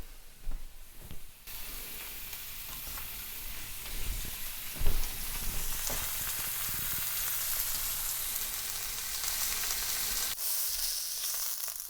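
A lean cut of steak searing in a pan with a little oil gives a loud, steady close sizzle that runs through the whole stretch, with a few brief thumps and clatters near the start and middle.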